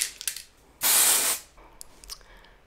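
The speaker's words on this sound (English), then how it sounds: "And a little bit of texturing spray." A single sustained hiss of aerosol texturing hair spray, about half a second long, loud and close, with quiet rustling before and after.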